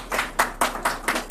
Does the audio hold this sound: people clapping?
yes